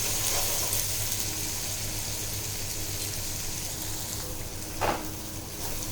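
Turmeric and salt sauté in a hot pan for a sour mango dal, giving a steady, close sizzle and frying hiss throughout, with one brief louder stir or clink near the end and no talking.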